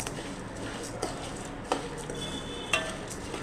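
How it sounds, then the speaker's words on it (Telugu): Cumin and spices fry in a pan for a moringa leaf hair-growth recipe, with a steady low sizzle and a few sharp clinks as a spoon stirs against the metal. "మాడకుండా మనం కలుపుతూ ఉండాలి"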